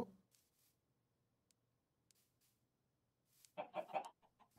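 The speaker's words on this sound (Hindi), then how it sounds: "मुर्गी है" A chicken in the video game Minecraft gives a short burst of clucks near the end after near-silence, moderately loud and close.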